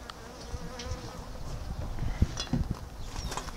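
Bees buzzing around a hive being removed, a steady insect drone close by with scattered knocks and rustles from the removal work, no talking.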